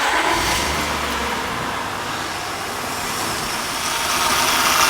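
A 1998–2002 Honda engine cranks and settles into a steady idle after a power steering pump rebuild, a loud continuous hum with a slightly noisy whine from air in the system, close up.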